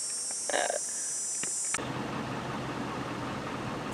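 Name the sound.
truck engine running while boosting a tractor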